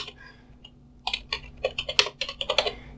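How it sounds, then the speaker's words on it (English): Someone types a command on a computer keyboard in a terminal, a quick close burst of clacking keystrokes after a short pause, with no talking. "just type in your terminal dpkg"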